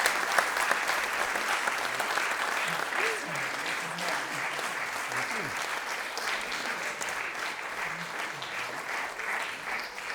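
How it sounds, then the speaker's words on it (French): A conference audience gives the speakers a final round of applause, with steady, dense clapping continuing for about ten seconds and faint voices and stray sounds mixed underneath. "Et on peut les applaudir encore une dernière fois."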